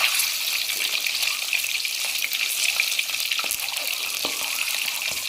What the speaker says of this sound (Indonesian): Selesai goreng tahu, Bang Toha goreng telur.